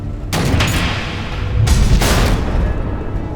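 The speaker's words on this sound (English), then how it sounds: "The missiles." Missile explosions in the video game Batman: The Enemy Within, booming in two heavy, loud bursts over a constant rumbling battle roar.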